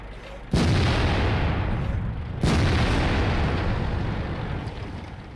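A T30 tank gun firing in World of Tanks: two loud, close booms a couple of seconds apart, each followed by a long rumbling roar that slowly fades.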